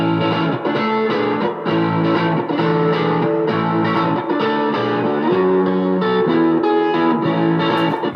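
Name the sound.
re-recorded guitar part in a Logic 9 mix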